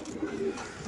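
A racer pigeon at a pigeon sale gives a brief, low coo against a busy background hum.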